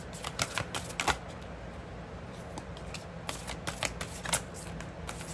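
A deck of oracle cards is shuffled by hand in short bursts of quick riffling and flicking, soft and close, separated by brief pauses.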